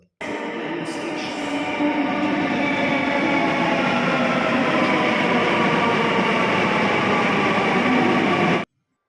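A Kochi Metro train hums along steadily, a smooth continuous rumble with a high electric whine at the start, then cuts off abruptly.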